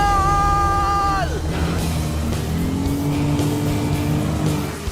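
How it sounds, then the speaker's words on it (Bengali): Several cars circle together in a race-style run, with a loud, continuous engine roar and tyre noise filling the whole stretch. An engine note sweeps downward early on, then a steady drone holds close and strong. "3টে গাড়ি গোল করে ঘুরছে।"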